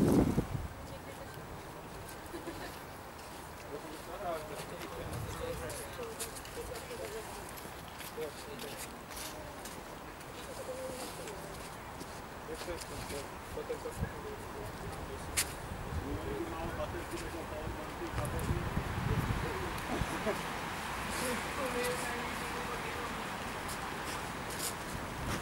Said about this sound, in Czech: teďka teda začalo foukat, tak se omlouvám, jestli to neslyšel